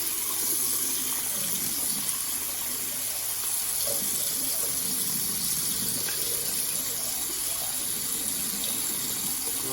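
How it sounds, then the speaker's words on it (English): Water runs steadily from a kitchen sink tap left on while it warms up, a continuous broadband gush lasting throughout with no talking. "Empty out our water and turn it on until it gets hot."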